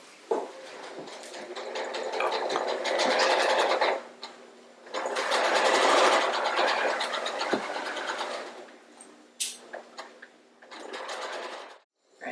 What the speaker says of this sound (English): I am off to the sewing machine.